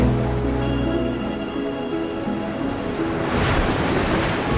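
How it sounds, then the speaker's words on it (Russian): A sea-wave splashing effect accompanies a school staging of a fairy-tale play, heard as a steady washing surf roar over a low tonal drone, with the surge swelling louder toward the end. "Море волны плещут"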